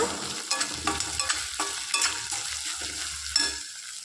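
Crushed garlic and curry leaves frying in a pan for Kannada garlic rice, with a spoon scraping and stirring in repeated close strokes over a soft background sizzle.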